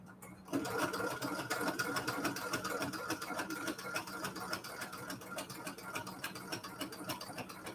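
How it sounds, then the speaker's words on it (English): A sewing machine runs continuously at a fast, even clatter, close by and moderately loud, with a rapid mechanical ticking throughout. "It just like makes my sewing machine 10 times louder."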